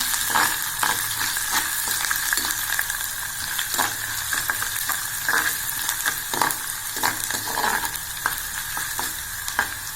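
Chopped onions sautéing in a pan for a tamarind kuzhambu with yam, a steady close sizzle with frequent sharp stirring scrapes and taps throughout, no voices.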